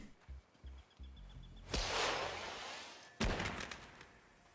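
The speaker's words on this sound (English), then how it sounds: "Fireworks!" Fireworks in Shadow Tactics: Blades of the Shogun erupt in two sharp, loud blasts, each trailing off in a crackling hiss, after a few low thumps.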